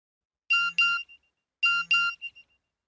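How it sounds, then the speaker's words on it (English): A mobile phone gives its message alert twice, each a bright two-tone chime with a short trailing tail, clear and close in a quiet setting. "My mobile phone beeped."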